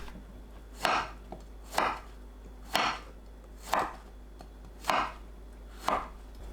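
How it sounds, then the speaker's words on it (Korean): A knife chops round zucchini into large slanted chunks on a cutting board, six evenly spaced, crisp cuts about a second apart, close and clear with no talking. "둥근 호박을 큼직하게 자르면 되는데 4등분 후 방향을 바꿔가면서 어슷 썰면 큼직하게 썰어낼 수 있어요."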